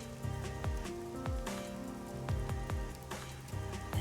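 Rain patters softly and continuously in the video game Raincode+, a faint hiss beneath louder, rhythmic background music.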